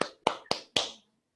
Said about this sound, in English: You can unmute yourselves and clap if you're into that.